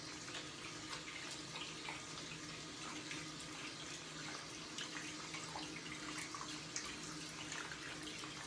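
Room-temperature tap water runs steadily from a faucet into a sink while gua sha tools are washed, a continuous close splashing hiss with no talk.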